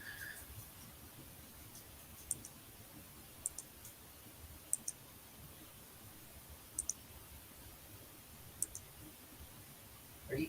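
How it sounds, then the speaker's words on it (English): Sharp, faint computer mouse clicks, about a dozen single and paired taps spaced irregularly over a quiet room hiss; no voices. "you hear the mouse click"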